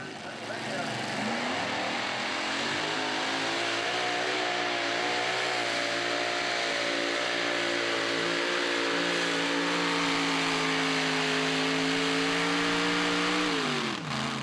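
A mini rod pulling tractor called the Red Fox roars at sustained high revs during a charity tractor pull in Hillsboro, Wisconsin, its engine note climbing, holding steady and then dropping off at the end of the run.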